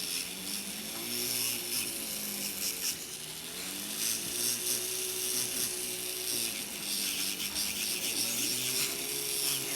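An electric nail drill files a fingernail with a continuous whirring rasp that rises and falls in pitch as the bit rolls across the nail, close and steady with no talk.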